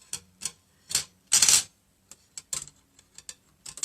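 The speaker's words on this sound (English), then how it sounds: "you're just going to cut these off with your aviation snips" Aviation snips cut through wreath-form wire, giving several sharp, close metallic snips spaced irregularly, one longer scraping cut in the middle, with no talking.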